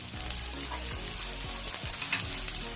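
Onion, cabbage and carrot stir-fried in a hot pan for home-style chicken fried rice: a steady, close sizzle with repeated scraping stir strokes, no talking.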